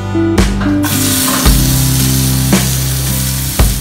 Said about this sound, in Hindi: अब हम इसमें ग्रिल करने के लिए चिकन रखेंगे, लेग पीस अपने।